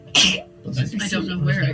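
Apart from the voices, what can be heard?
sneeze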